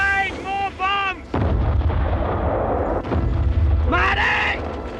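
Bombs bursting in a World War One battle, heavy booming blasts that roll on loudly through most of the moment, with voices shouting near at the start and again toward the end.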